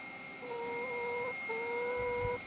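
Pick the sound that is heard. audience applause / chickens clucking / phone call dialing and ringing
chickens clucking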